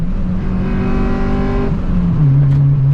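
A slow naturally aspirated car is driven hard, its engine revving up through a gear, dipping briefly at a shift, then pulling again, loud and close from inside the cabin with no talking.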